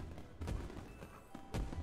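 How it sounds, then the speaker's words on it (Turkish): Fireworks go off in the video game Witch It, a few muffled booming bursts spaced irregularly with a soft crackling tail and no talking over them. "Ya bu havai fişekler niye patlıyor ya?"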